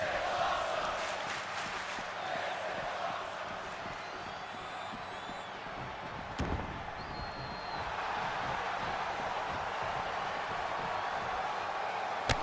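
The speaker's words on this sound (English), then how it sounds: "The crowd chanting, this is awesome." A WWE 2K22 video game arena crowd keeps up a steady chant at moderate distance, joined by some whistles and a brief thud midway.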